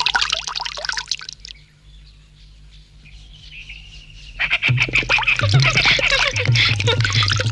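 Water poured for handwashing in a Bangla cartoon, a splashing stream that stops, then a quiet gap with a faint tone, then louder busy splashing and cartoon effects that build to the end.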